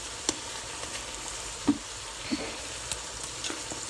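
Salmon sizzles in a hot frying pan with a steady, even hiss, broken by a few faint clicks and pops near the start and middle. No voices.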